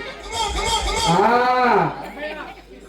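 A buffalo lets out a long, loud moo close by, a drawn-out lowing call that rises and fades over about two seconds, with a murmur of background noise around it.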